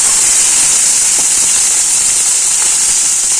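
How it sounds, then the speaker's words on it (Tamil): Eggplant and garlic sizzle in hot oil in a kadai, giving off a loud, steady, close hiss that carries on without a break and without any talking. "நம்ம இப்போ இந்த கத்திரிக்காயும் பூண்டும் போட்டுடலாம்."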